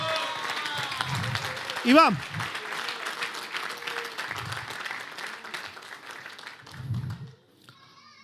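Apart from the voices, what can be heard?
congregation applauding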